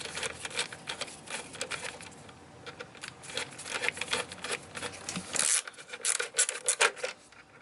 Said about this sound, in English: He's just tightening up the clamps,